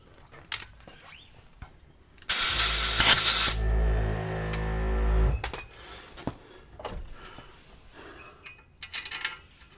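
A spray burst aimed at the hub bolt on a 2012 Subaru Forester XT during suspension work, a loud hissing blast of about three seconds set among quieter workshop knocks and clatter.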